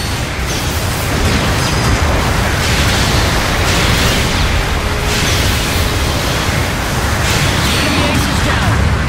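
In the video game Gundam Battle Operation 2, a mobile suit explodes amid loud, dense battle noise. Booming blasts and rumbling bursts keep coming throughout, with voices partly mixed in.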